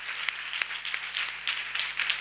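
A church audience claps in thanks during a worship service. A crowd of hands gives bright, scattered applause with a few sharper claps standing out, and no voices.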